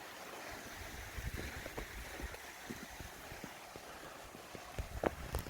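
Mountain valley stream at a temple site in Uijeongbu, Korea, flowing steadily in a broad, moderately loud wash, with a few brief splashes and clicks rising now and then above the continuous rush of water.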